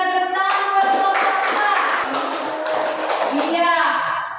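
Classroom students clap for group 2 in a lively, dense burst of applause lasting several seconds, with a teacher speaking over it in Indonesian.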